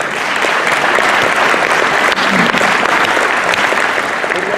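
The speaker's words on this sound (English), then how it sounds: "a big round of applause for Zach Brown." Sustained applause from an audience at a sheriff's awards dinner in Charlotte County, steady and dense throughout, with no voices rising above it.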